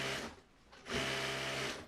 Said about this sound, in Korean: 10여 명의 주부들의 재봉틀이 쉴 새 없이 돌아간다.